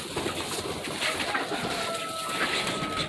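Chickens on a small critter farm at chore time cluck and coo in a busy, close chorus, with overlapping calls and scuffling under a constant barn hum.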